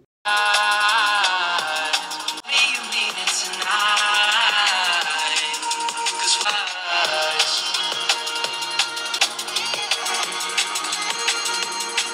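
Music plays through the top and bottom stereo speakers of Infinix GT 10 Pro and Poco F5 smartphones. The sound is dense and continuous, with steady volume across the whole passage and no talking.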